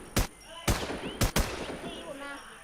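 Gunfire in the online shooter WarZ: four sharp, loud shots in an uneven rhythm over about a second and a half, followed by fading game sounds.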